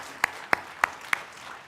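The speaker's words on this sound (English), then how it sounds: "If we can have a big round of applause, please." At a Veterans Day celebration in Arlington County, a few sparse hand claps sound about a third of a second apart, each crisp and moderately distant, with nothing else around them.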